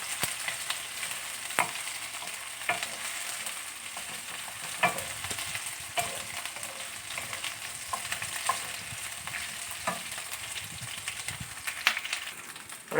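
Malaysian kampung fried rice mixture stir-fried in a hot pan: a continuous frying sizzle with repeated scraping and tapping of the spatula at uneven intervals, close and steady, no talking.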